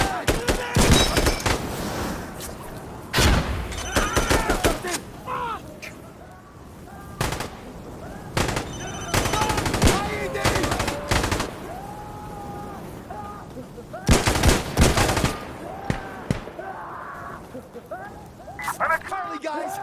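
A frag grenade and gunfire fill a firefight in the Insurgency: Sandstorm video game. Sharp shot bursts and rapid automatic fire come in loud clusters, mixed with shouting voices throughout.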